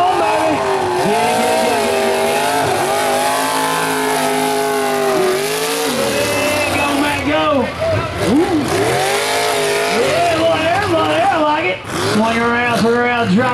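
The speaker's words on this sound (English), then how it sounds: "Driving super aggressive, that's what we like to see." A mud bog truck tears through a freestyle run at a mud bog event, its engine roaring and revving hard in surging bursts, loud and continuous, with a commentator and crowd voices talking over it.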